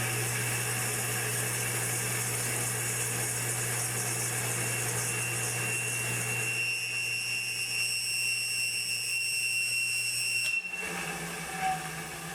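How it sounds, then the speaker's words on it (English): An electric motor on a three-phase power setup screams with a dry front bearing, a steady loud whine with high tonal overtones running continuously, then cutting off abruptly near the end. "we had the motor start to scream, but a little bit of grease on that front bearing quieted"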